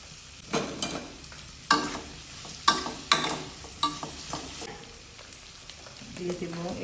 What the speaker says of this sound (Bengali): এই পর্যায়ে আমি এই চিংড়িগুলোকে দিয়ে দিচ্ছি, চিংড়িটাকে তেলের মধ্যে একটু ভেজে নিব